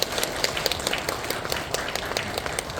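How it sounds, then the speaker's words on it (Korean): A church congregation claps for the choir, a brisk, moderately close patter of many hands that carries on steadily throughout with no voices over it. "우리 한번 박수로 격려하겠습니다."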